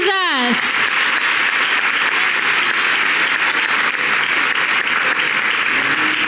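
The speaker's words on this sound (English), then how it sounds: "Let us clap for Jesus" Loud, sustained applause from a large crowd at a religious gathering, steady clapping filling the whole stretch after a brief voice at the start.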